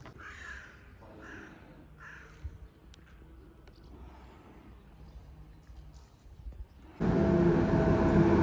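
An old train in Bosnia and Herzegovina is heard; after quiet outdoor ambience with crow caws early on, a loud rushing rumble of rail cars suddenly surges in near the end and continues steadily.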